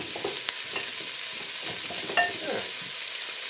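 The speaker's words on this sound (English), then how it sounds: "I'm going to give this a stir, get it coated in that oil" Chopped onion, celery and carrot mirepoix being stirred in hot oil, with a steady close sizzle and a few scraping, clicking strokes of the spoon against the pan.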